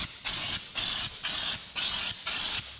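Five evenly spaced bursts of hissing texture spray from an aerosol can with a trigger, sprayed onto the interior of a 1961 station wagon, close and loud with short pauses between each squeeze.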